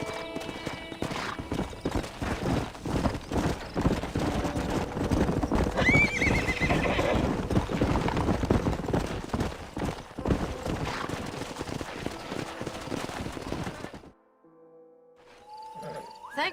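Horse stallion in the Red Dead Redemption video game, loud clip-clopping gallop with repeated whinnies and neighs over a busy in-game soundscape, the hooves cutting off near the end to near silence.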